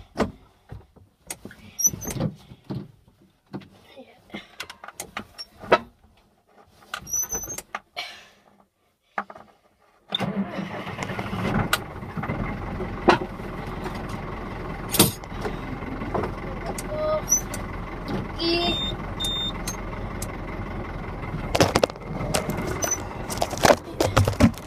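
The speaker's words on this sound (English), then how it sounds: "Today I'm just pulling the boom spray on the new tractor." A 104 horsepower 2003 tractor pulling a boom sprayer, its engine droning as a steady low hum from about ten seconds on, with clicks and knocks earlier; someone talks intermittently throughout.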